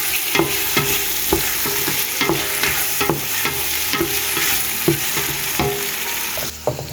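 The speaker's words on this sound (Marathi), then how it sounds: "तर घालया म्हणटा प्रॉन्स. आनी दिया बरो मिक्स." Prawns being stirred in a hot cooking pan for caldine, steady sizzling with regular scraping knocks of the spoon against the pan, close and loud.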